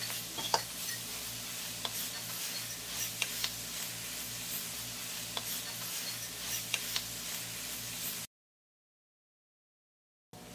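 Three tablespoons of all-purpose flour roasting and being stirred in a pan for a creamy shrimp lasagne: a steady, soft sizzle with light scraping clicks from the spoon. It runs for about eight seconds, then cuts to silence.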